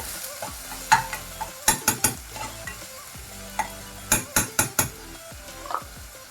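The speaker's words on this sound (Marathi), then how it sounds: "मग आपण टाकूया हा बारीक चॉप केलेला जो कांदा होता तो पण आपण ह्याच्यात टाकून घेऊया आणि थोडं एक अर्धा मिनिट आपण हा परतून घेऊ" Finely chopped onion sautés in hot oil for a black-pea usal, a soft sizzle running beneath sharp, repeated clinks and scrapes of a spoon stirring against the pan in two quick bursts.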